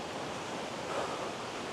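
Khlong Nam Lai waterfall in Kamphaeng Phet, Thailand, roars as a steady, even wash of rushing water, constant and unbroken with no voices.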